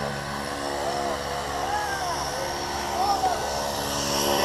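A skydiving plane's engine drones steadily from inside the cabin, a loud, constant propeller roar with a faint whine, while people talk beneath the noise.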